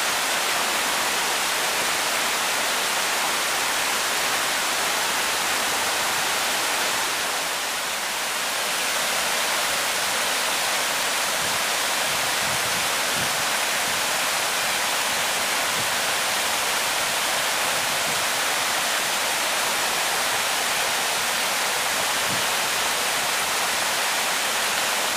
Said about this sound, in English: we've just had such intense rain that our pond is overflowing